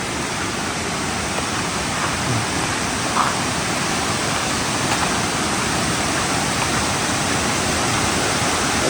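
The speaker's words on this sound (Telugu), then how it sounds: "వా, ఏముందండి వాటర్ ఫాల్." Hosadevata waterfall near Gokarna and Kumta roars continuously, a loud, broad, unbroken rush of falling water with no voices over it.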